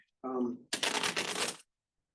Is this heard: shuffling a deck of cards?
yes